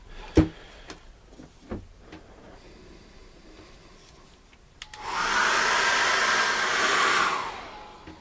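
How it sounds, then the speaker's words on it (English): A few faint knocks and handling sounds, then a hair dryer switches on and blows with a steady loud whoosh over an acrylic painting for a couple of seconds before cutting off. "Now we're going to dry that off again with a hairdryer"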